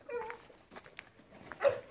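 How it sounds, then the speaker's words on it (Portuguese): A few faint, brief dog whimpers and yips come from close by on a rural smallholding, scattered over about two seconds amid light background noise. "Ai, cachorro."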